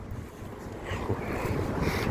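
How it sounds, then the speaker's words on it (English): Wind blows steadily from the east off a large lake, buffeting the microphone in a low, rough rumble that grows slightly stronger toward the end. "I'm getting the wind straight from the east where the lake is"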